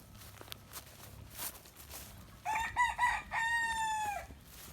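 After faint rustling and movement, a rooster crows loudly in a long, wavering call nearby among chickens, with a short clucking break partway through.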